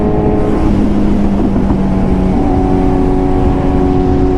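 A motorbike engine running loud and close, a steady droning roar with strong tonal harmonics that shifts slightly in pitch partway through as it revs.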